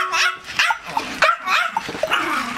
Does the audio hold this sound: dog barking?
yes